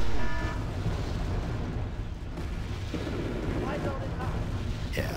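Bomb run explosions in the Wargame AirLand Battle video game, a dense dull rumble of overlapping booms and blasts rolling on throughout, with a louder burst at the start and another near the end.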